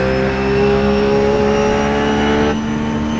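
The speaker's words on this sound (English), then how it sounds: "But on board with Christopher Osborne, just listen to how he works his car around this place" A GT3 race car engine screams at high revs around Silverstone circuit, pitch holding steady then dropping briefly as it shifts, loud and close throughout.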